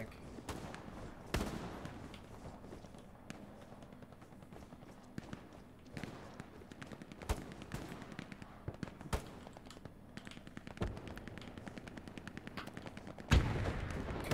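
Distant gunfire and scattered shots crackle through a World War II battle in Hell Let Loose, with a machine gun firing somewhere out of sight. The bursts are irregular and faint, sitting under a constant low battlefield rumble with occasional sharper cracks.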